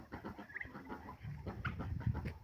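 Ducks on a farm give raspy quacking calls amid other poultry, several short mid-pitched bursts over a steady farmyard din at moderate distance, with no one talking.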